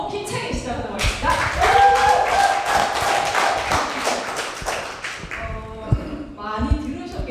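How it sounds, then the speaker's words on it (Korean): An audience claps together to open an anniversary lecture, a loud, dense wave of applause that peaks and then thins into scattered claps, with a few thuds and murmured voices. "여러분의 박수로 힘차게 시작하도록 하겠습니다"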